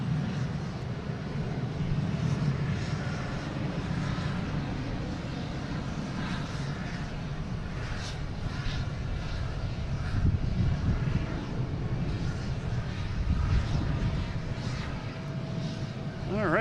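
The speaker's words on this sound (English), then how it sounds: "We got WestJet finally taking off." WestJet airliner taking off from Boston Logan, a steady broad engine roar that holds loud throughout, with faint talk mixed in.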